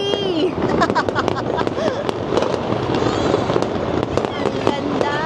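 Fireworks bursting at a free New Year 2026 celebration, a dense barrage of loud crackling booms and pops with crowd noise and voices underneath.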